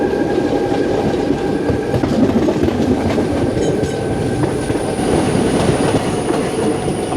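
The Chennai Egmore–Guruvayur Express runs on rails near Angamaly station in Kerala, a loud, continuous rumble of wheels and carriages with rhythmic clatter and a faint high squeal throughout.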